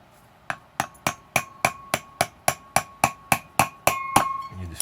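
A hammer strikes a screwdriver to punch a bushing out of a K5 Blazer starter: about a dozen sharp metallic blows at a steady, even rhythm, loud and close, with a ringing tone.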